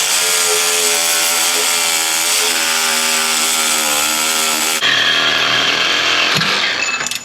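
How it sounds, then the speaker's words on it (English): A Sawzall reciprocating saw cuts through rusted spring fasteners on a Chevrolet Silverado 5.3 truck. The steady, loud, harsh buzzing whine runs unbroken and close for the whole stretch, with a sharp shift in pitch partway through as the blade bites. "Sawzall coming back. Let's go ahead and chop these fasteners off."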